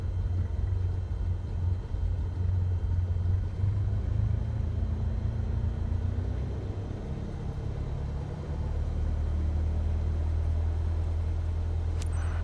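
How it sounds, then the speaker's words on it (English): Aircraft engine in Microsoft Flight Simulator 2024, throttled up so the plane begins to taxi: a steady, low droning rumble holds throughout, easing slightly and then swelling back near the end. "Now, gently increase throttle to get the aircraft moving."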